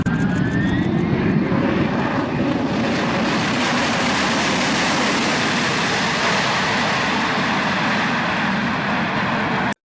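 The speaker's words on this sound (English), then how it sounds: "This plane was landing on a super short runway." A plane landing on a very short runway, flown by a Russian test pilot, its aircraft engines roaring loud and close throughout with steady broadband rumble and a faint rising whine early on, no voices.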